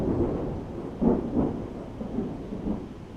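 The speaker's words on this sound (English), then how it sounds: "And it's the thunderstorm that never ends." Rolling thunder from an ongoing thunderstorm outside a crowded garage, low rumbles swelling in several slow waves over a steady wash of rain, heard from some distance with no voices.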